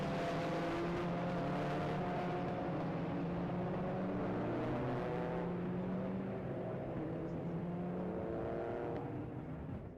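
Modified Ford race cars on a green flag lap at Knockhill circuit: a dense chorus of engines revving and changing gear together, overlapping rising tones held steady throughout at moderate distance, with no talking.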